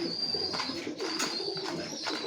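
A racing pigeon coos close by in a few soft, throaty bursts, with a faint steady hum in the background.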